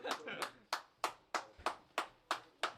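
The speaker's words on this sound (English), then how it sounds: "Who the hell clapping in my ears like that?" Hands clap close to the microphone in a steady, evenly spaced series of sharp claps, about eight in under three seconds.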